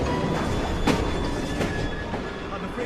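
A train runs in a video game set in Victorian London, with a steady rumble and faint rail noise carrying across the whole stretch, plus a few brief clanks.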